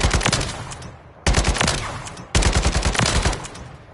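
An MW2 weapon fires in the video game MW3 on PS5, three loud, close bursts of rapid automatic gunfire with brief gaps between them.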